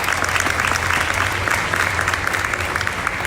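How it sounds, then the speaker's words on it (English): Audience applause fills a hall at the 2019 doTERRA convention product showcase: dense, steady clapping from a large crowd, loud and continuous for the whole stretch. "Can we give a round of applause for that?"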